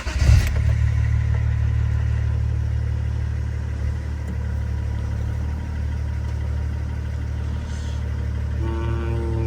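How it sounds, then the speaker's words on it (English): A 2004 car engine cranks and fires at the start, then settles into a steady, fairly loud idle with a low rumbling hum, with no talking. "now we're gonna try and start the engine"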